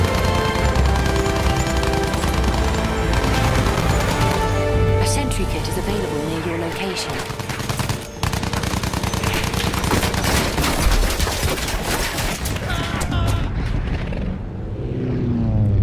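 Dense gunfire fills a Battlefield 1 video game firefight: rapid automatic bursts and overlapping shots, with explosions and rumbling battle noise, loud and nearly continuous, and a voice speaking over it.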